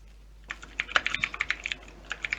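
Fingers tap quickly on a computer keyboard, a close, steady burst of clicky keystrokes with a short pause partway through and no talking.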